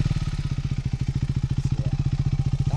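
A KTM 390 Adventure single-cylinder motorcycle fitted with an aftermarket AliExpress exhaust idles close by, its steady rapid thumping pulses loud and even throughout.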